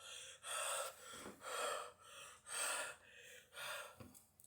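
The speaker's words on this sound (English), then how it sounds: "Naruto woke up breathing heavily" Heavy, ragged breaths, about six of them, pant in and out in a steady rhythm close to the ear, as if someone has just jolted awake, with no talking.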